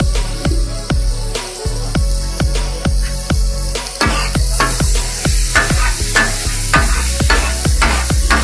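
Street-style kata kat from Karachi is stir-fried with yogurt, black pepper and kadhai masala: loud, rhythmic metal clanks land roughly twice a second over a constant hiss of sizzling, with no talk.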